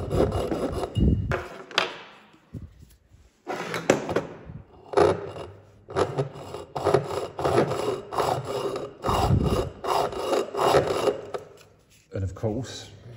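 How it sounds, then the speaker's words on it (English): A hacksaw cuts through copper pipe in place, its steady back-and-forth rasping strokes close and fairly loud, with a few pauses between bursts and a person talking at times. "The advantages of using a hacksaw is you can cut the pipe in position, in situ."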